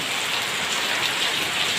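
Heavy rain falls around a hut in a steady, dense hiss of drops striking surfaces, loud and unbroken for the whole stretch with no voices.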